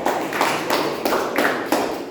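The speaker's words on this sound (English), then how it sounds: "Big round of applause." A meeting audience claps in applause, a steady, fairly loud patter of many hands with a gently pulsing rhythm, without voices over it.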